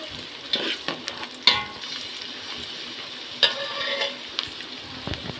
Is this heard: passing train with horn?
no